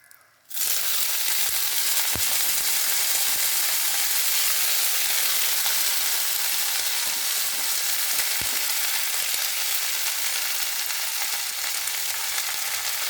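Gongura (sorrel) leaves tossed into hot oil in a pan give a loud, steady sizzle that starts abruptly and continues without break, with a couple of faint clicks from stirring.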